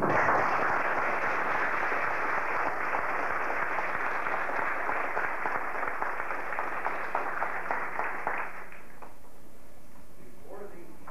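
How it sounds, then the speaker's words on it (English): A church congregation applauds to show approval of new altar servers, a fairly faint, even clapping that carries on for about eight seconds before stopping abruptly, leaving quiet room tone. "I invite everyone present to show their approval and support by applause."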